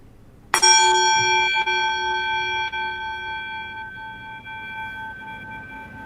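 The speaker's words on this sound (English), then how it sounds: "As I ring our bowl gong" A bowl gong struck once during a Unitarian Universalist Sunday service: a sudden bright strike that rings on in a steady, shimmering sustained tone and fades slowly across several seconds, heard alone.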